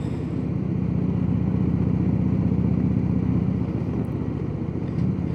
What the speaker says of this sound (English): It sounds good. It's a Harley